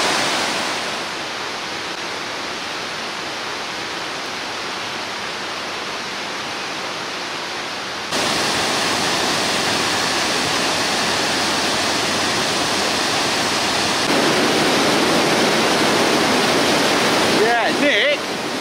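Water gushes and roars continuously at close range from a waterfall, a dense, steady rushing that grows slightly louder partway through, with a faint voice near the end.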